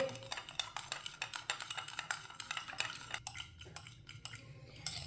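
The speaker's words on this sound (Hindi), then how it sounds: "ईस्ट को अच्छी तरह मिक्स कर लेंगे।" A spoon stirs yeast into a little milk in a small bowl, tapping and scraping in quick, irregular clinks that are faint and close, with no voices.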